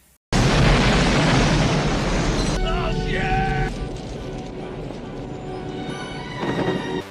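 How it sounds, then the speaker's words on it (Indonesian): A cockpit blows apart in a film action scene: a sudden loud blast erupts after a brief hush, roaring broadband debris and fire for a couple of seconds, then fades into crackling rumble and ringing metallic tones with a late swell. "kokpit meledak"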